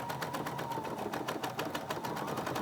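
A steady, even run of a sewing machine stitching a programmed regular quilting stitch, fairly faint and close, with a fast rhythmic needle pulse throughout.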